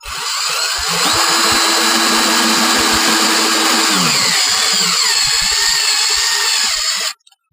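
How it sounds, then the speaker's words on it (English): A power tool drives the top bolt in during a roof installation for a Yarbo Y data center, whirring loud and steady for about six seconds as its pitch dips under load, then cuts off abruptly. "So I'm going to put the top bolt in first because that'll kind of hold it in place."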